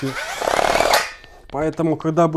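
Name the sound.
cordless drill turning ice auger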